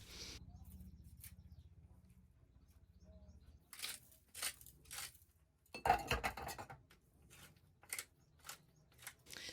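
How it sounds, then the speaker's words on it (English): Several short, crisp snips of scissors cutting through herb stems, close by, in quick irregular bursts with a low background hum. "snip them off with the scissors"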